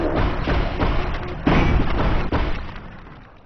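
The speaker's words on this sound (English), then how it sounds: "Offensive grenades, as opposed to defensive ones" An offensive grenade going off in the video game Chrome, a dense low boom and rumbling thud that swells with a second heavier burst midway, then fades out, loud and close, with no talk.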